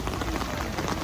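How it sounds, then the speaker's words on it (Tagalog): Rain falls in Baguio while the sun shines, a steady, dense hiss of drops on surfaces, fairly faint and continuous without any voices. "Umaaraw, tas umuulan."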